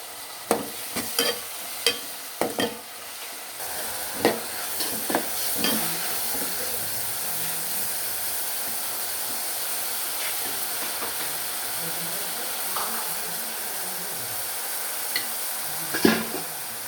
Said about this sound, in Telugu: ఆయిల్ వేడెక్కింది ఇందులో ఉల్లిపాయ ముక్కలు వేసుకుందాం ఇందులోనే కరివేపాకు పచ్చిమిర్చి